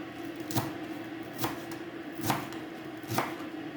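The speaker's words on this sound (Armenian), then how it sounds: "Սա էլ կտրենք, որպեսզի լցնենք սոխրի տապակայի վրա" Four slow, evenly spaced knife chops on a cutting board, cutting food to add to fried onions, each a crisp thud, close and fairly quiet with a soft hum underneath.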